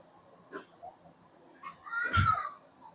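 A voice imitates a cat's meow in a single rising, nasal call near the end, after a few faint vocal sounds, heard close in a quiet room during a Marathi religious sermon.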